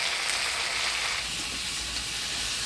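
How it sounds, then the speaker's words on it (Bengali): Potatoes coated in a ground cumin, ginger and chili paste with turmeric and salt sizzle steadily in hot oil, a dense, even frying hiss with faint stirring scrapes throughout. "মশলা দিয়ে আলুটা ভালোভাবে কষে নিলাম"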